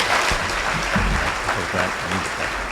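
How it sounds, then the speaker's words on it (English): An audience applauds a keynote speaker at a conference luncheon, a dense, continuous wash of clapping through the whole stretch, with voices speaking faintly underneath. "Can we have another round of applause?"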